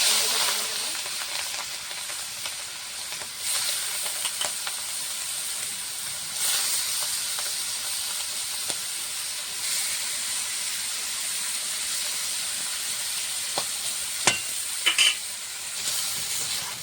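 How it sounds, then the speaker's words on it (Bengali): Fish frying in hot mustard oil in a wok gives a steady, close, crackling sizzle and hiss that runs the whole time, with a few sharper pops and spits near the end and no talking. "মাছ ভাজার জন্য কড়াতে দিয়ে দিচ্ছি সরষের তেল"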